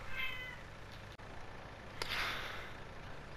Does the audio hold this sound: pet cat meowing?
yes